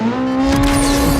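A Honda Civic sleeper build with VTEC engine pulls hard in a brief, loud, close burst of steady engine drone, with no talking.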